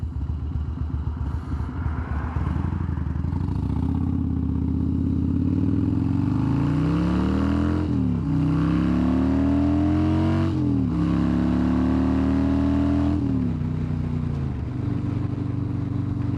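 A motorcycle fitted with a windshield extension winds up in a short acceleration blast. Its rising engine note climbs in a few steps, then settles back to a steady drone, loud and close, with no talking.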